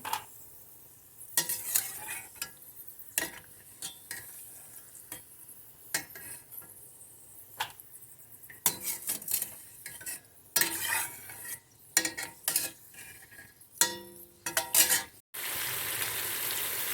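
Ginger fries in oil with a soft sizzle under repeated metal-on-pan scraping and stirring strokes, irregular clanks close by, ending in a steadier hiss.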